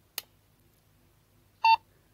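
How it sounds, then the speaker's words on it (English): A short click is followed after a pause by a single clear electronic beep from a recordable message button, close and brief, in an otherwise quiet room. "One beep and then two beeps and you release it"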